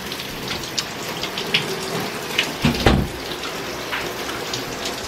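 Shower running in a bathroom, a steady hiss of spraying water with scattered splashes and a few louder knocks near the middle, close and continuous throughout.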